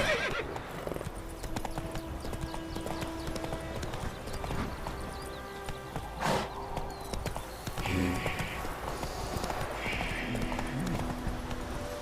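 A horse in a video game clip-clops along and whinnies several times, hooves steady throughout with neighs standing out near the middle and end, set against a faint game ambience.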